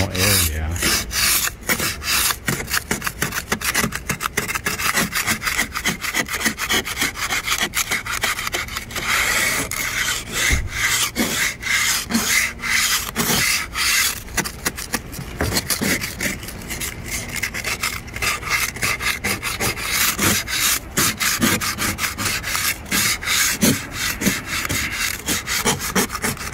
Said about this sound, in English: So our windshield is iced up or frosted. So I'm gonna use this scraper to scrape it out.